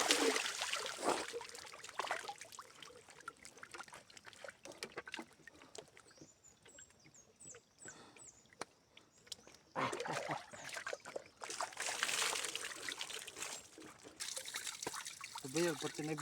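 Water from a mountain stream flows and trickles steadily nearby, with splashes and people talking over it.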